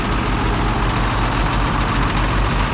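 The engine of a farm vehicle with over 12,000 engine hours runs nearby in a loud, steady, low idling drone. It continues without pause and no one speaks.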